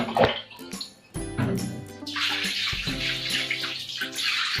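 Water splashes and pours over a screen-printing screen for T-shirt printing, a running, gurgling stream with spattering drips that grows fuller and steadier after the first second.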